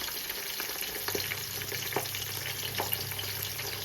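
Curry leaves and slit green chillies frying in a pan, giving a continuous close sizzling hiss with occasional faint stirring taps, no one speaking.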